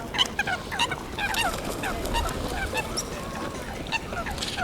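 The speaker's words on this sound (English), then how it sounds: "Just hear the geese in the background." A flock of tame geese in a London Royal Park makes a racket: loud, nearby honking calls that overlap one another in a busy chorus over ambient park noise.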